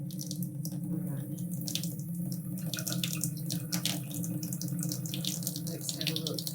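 A steady stream of cold water runs from a tap into a sink, a constant close splashing hiss that holds without pause throughout.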